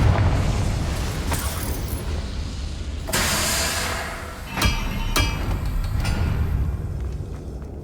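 A Confringo fire spell explodes in the Hogwarts Legacy game, a broad booming burst that rings out over a dense rumbling background, followed by a few sharp cracks.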